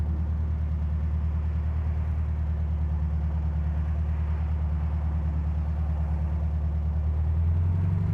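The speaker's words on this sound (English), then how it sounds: "You can see at an idle, we're idling nicely." A 2011 Volkswagen dune buggy engine idles smoothly and steadily at close range, a low throbbing rumble with no sputtering, running alone without voices throughout.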